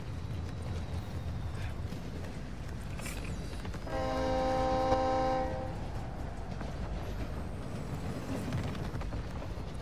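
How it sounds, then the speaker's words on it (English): Train passing by in the video game Warzone DMZ, a steady rumbling roll with a sustained horn-like tonal blast rising in the middle, heard alone over constant low background noise. "Oh, the other train is passing by."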